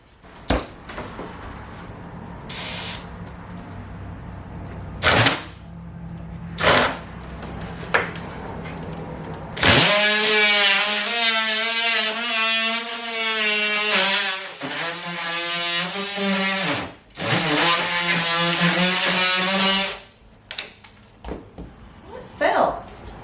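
A power tool cuts a piece of floor trim in a 1970s mobile home: loud close whining bursts of the tool running, separated by brief pauses, with taps, knocks and talk before it starts.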